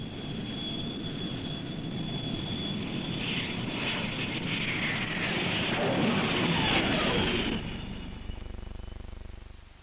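A military test aircraft passes overhead during trial landings onto a mat at Edwards Air Force Base, a loud, steady engine roar that swells toward the middle and fades near the end, with no talk.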